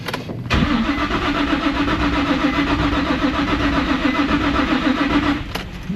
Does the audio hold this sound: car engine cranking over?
yes